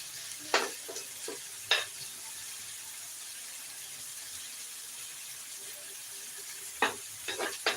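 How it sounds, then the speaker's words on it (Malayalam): Chicken fry is stirred in a hot pan: a soft sizzle runs under a few sharp, close scraping strokes that come in short bursts with quiet gaps between them, and no one talks. "ചിക്കൻ ഫ്രൈ ഒന്ന് വളരെ ഇളക്കിയിട്ട്"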